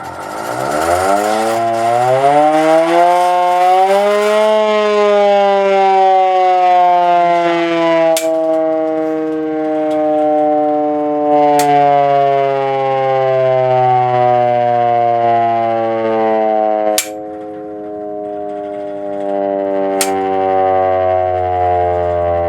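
A loud, wailing restored Secomak Type 447 Cold War air raid siren spins up to a howling pitch, then slowly winds down, with a few sharp clicks as it fades.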